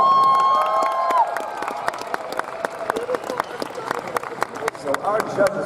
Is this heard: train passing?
no